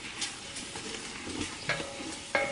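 Mushrooms and vegetables sizzling in a pan for chili while being stirred, a soft steady frying hiss with occasional scraping clinks of the utensil against the pan, fairly quiet and close, no talking.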